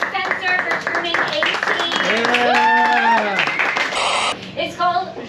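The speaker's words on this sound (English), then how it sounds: "Everyone, give a round of applause to Spencer" Audience applause at a live improv comedy show, with a burst of clapping running under voices and tonal sounds that carry through most of the stretch.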